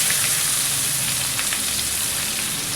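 Chopped onion sizzles loudly in hot oil tempered with asafoetida, mustard seeds and curry leaves, a dense, steady hiss with faint crackles and no talking, for stuffed brinjal in Maharashtrian style.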